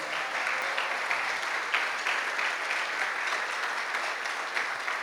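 A congregation applauds together during a church sermon service, a dense, steady wash of many hands clapping that carries on evenly without a break.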